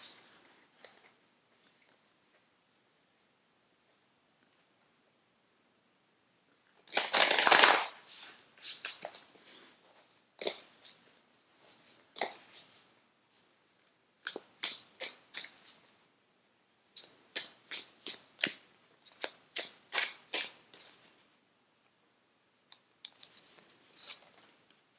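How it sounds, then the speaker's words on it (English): Oracle cards being shuffled by hand in a quiet room, with one long riffle burst followed by many quick crisp flicks and short card snaps in irregular clusters, fairly close and with no talking. "So now let's get some oracle cards here."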